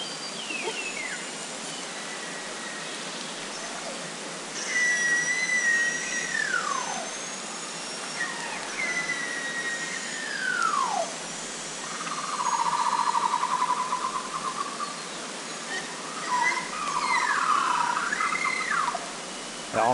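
Several beluga whale whistles, long descending and wavering tones repeated at intervals, heard clearly over a steady underwater hiss with no voices.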